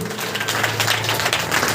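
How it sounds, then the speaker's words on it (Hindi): A church congregation at a Sunday meeting clapping hands in thanks to God, dense steady applause filling the room throughout. "ताली बजाकर परमेश्वर को धन्यवाद।"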